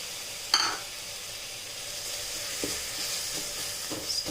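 Tomatoes and turmeric powder sizzle steadily in a pot inside an electric cooker, with a sharp utensil clank near the start and a few soft scraping stirs later, fairly quiet and close.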